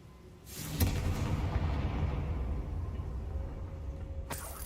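A Confringo spell explosion in Hogwarts Legacy lands as one loud boom, then a long rumbling roar that fades slowly, and a sharp crack comes near the end.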